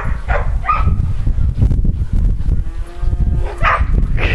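Dogs at Lawpdoodle Kennel running through fresh snow during a West Virginia blizzard, with a few sharp nearby barks and whimpers over heavy low rustling and movement noise.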